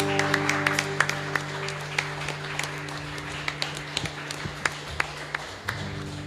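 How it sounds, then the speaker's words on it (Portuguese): Church congregation applauding during an evening service, a steady wash of clapping with sharper individual claps standing out, sustained organ or keyboard tones underneath throughout. "Irmãos, aplaudam o Senhor."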